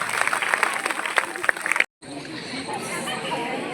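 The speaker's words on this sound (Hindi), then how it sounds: "कुलदीप सर के लिए जोरदार तालियां हो जाए" Classroom crowd at a Teacher's Day celebration clapping and cheering loudly for teacher Kuldeep sir, dense applause mixed with chatter that cuts off abruptly, then a quieter room murmur of students talking.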